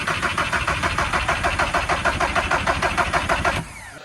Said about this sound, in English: It cranks a lot better, sounds completely different now, obviously with a new starter motor.